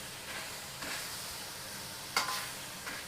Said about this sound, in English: We're now going to stir fry this.